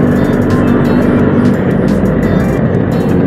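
A 1994 Bajaj Super 150 scooter with small 8-inch wheels being ridden, its engine giving a steady, loud drone mixed with wind rush throughout, with no pauses or talk.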